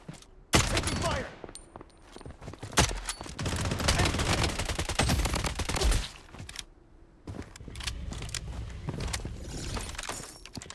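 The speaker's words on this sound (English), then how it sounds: "Taking fire." Rapid bursts of automatic gunfire in the Blood Strike shooter game, loud and dense, with several volleys separated by brief lulls and sharp impact cracks, no talk.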